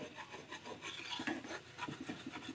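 Steady, rhythmic scraping as a burnt frying pan is scrubbed, with close, harsh back-and-forth strokes and no voices.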